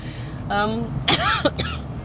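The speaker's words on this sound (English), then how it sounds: "I've got just the dry, airy cough." A short, dry cough bursts out twice in quick succession, close and fairly loud, after a brief voiced sound.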